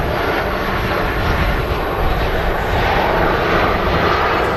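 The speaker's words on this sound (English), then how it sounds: "The aircraft arriving as well." Aircraft arriving at Manchester Airport, a loud continuous engine roar that stays steady and close for the whole stretch, with no talking over it.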